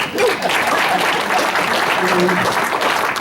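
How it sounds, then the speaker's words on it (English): Audience applause at a Rotary club meeting, a steady wash of clapping filling the room for a few seconds, with a voice briefly audible over it. "Round of applause here."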